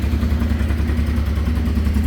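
A 1989 Honda Transalp 600V engine idling on a cold start with the choke at half, a steady, close, thumping idle with an even low pulse and light mechanical clatter, no voices.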